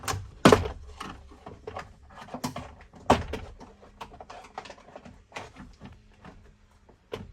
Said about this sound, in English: we need to pop all the little clips out of this door panel